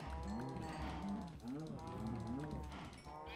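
Minecraft cows in a video game moo repeatedly, with about four drawn-out, overlapping moos in steady succession over a constant low background.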